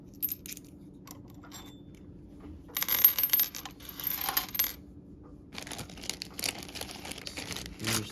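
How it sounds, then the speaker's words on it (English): Magnum size metal inserts are pulled from an AGS Annealer v3.0, giving close metallic clinks and rattling scrapes in several bursts between quieter pauses. "all you do here is you just pull out the magnum size inserts"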